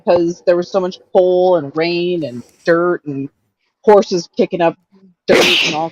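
A single short, sharp sneeze bursts out right after a stretch of conversational talk during a panel discussion, loud and close.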